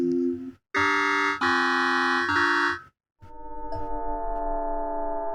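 Mixed presets from the Natural Selection S synthesizer, including sine tones, in several bursts, layered steady pitches with bright overtones, a pause, then a sustained shimmering chord with subtle shifting notes.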